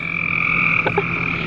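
Frogs croak in a dense, continuous chorus of high trilling calls, loud and near, with a couple of distinct lower croaks standing out partway through.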